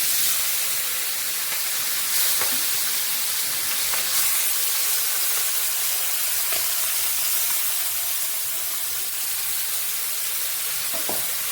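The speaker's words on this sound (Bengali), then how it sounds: "মাসে এখন আমরা মাছটা ছেড়ে দিচ্ছি" Small mola fish cooking in hot oil for a sour fish curry produce a dense, loud, unbroken hiss, with a few faint clicks scattered through and no voices.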